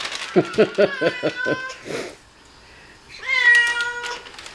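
A female cat meows repeatedly indoors, a quick run of about seven short close meows, then a pause and one longer, drawn-out meow.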